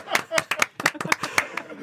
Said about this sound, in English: Half-hearted applause.